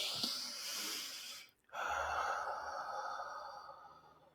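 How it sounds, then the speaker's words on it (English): A slow, steady breath heard up close: a long airy inhale, a brief pause, then a longer sustained exhale, soft and without talking. "Breathing."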